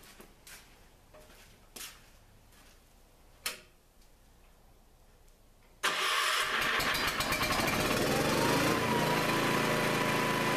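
An engine freshly set on new rubber mounts: a few soft clicks and taps, then it suddenly fires up and runs loud and steady at close range with no talking.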